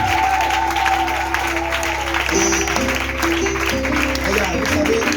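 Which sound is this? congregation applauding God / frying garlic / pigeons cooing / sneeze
congregation applauding God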